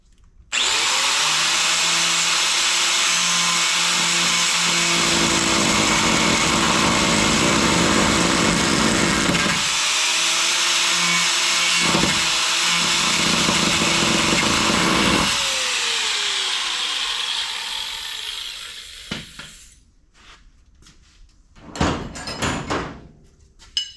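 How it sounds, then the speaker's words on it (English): A cutting wheel grinds through a stuck bracket on the floor of a 1980 Malibu, a loud steady high-pitched whine for about fifteen seconds with brief dips, then winding down into quieter clanks and shop noises. "So I made sure to try and cut that with a cutting wheel real quick."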